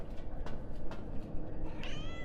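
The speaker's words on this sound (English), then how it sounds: "There are a lot of cats here." Several cats meowing in a video game, a few short cries in quick succession at moderate volume, then a longer rising meow near the end.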